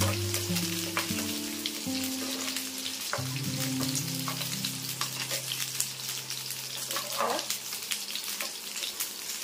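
Pointed gourd pieces browning in a pan sizzle steadily with sharp crackles and pops close up, a constant hiss that holds at even loudness from start to finish.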